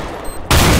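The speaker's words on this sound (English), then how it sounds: "How's the sawed-off shotgun, PDW?" A single loud, close blast from a sawed-off shotgun in the Counter-Strike GO video game, a sudden broadband burst after brief quiet.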